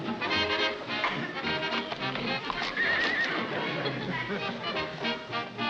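Horses whinny and neigh loudly over a busy background of hooves clip-clopping, with faint murmuring voices mixed in.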